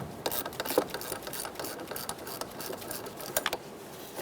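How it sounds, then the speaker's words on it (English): A 10mm socket wrench ratchets on the negative battery terminal of a 2010-2013 Kia Soul 2.0L under the hood, giving quick, fairly quiet, close clicking bursts in an uneven rhythm. "Use a 10mm socket."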